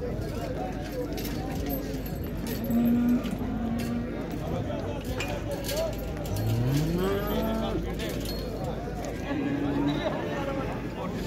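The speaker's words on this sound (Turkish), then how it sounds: "Burada da inekler var." Cattle at a large livestock market in Şarkışla moo repeatedly, several low drawn-out calls from nearby animals amid a busy crowd murmur, with people talking throughout.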